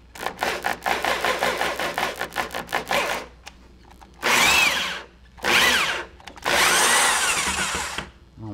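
A power drill drives screws into an arcade cabinet. A fast stuttering burst of whirring pulses comes first, then three longer, loud, close whines, each rising in pitch as it runs and separated by short pauses.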